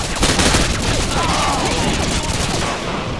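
Dense, sustained gunfire rattles through a battle scene in Call of Duty: Modern Warfare 2, a loud fusillade of overlapping shots that keeps a steady wash of noise for the whole stretch, with voices faintly mixed in.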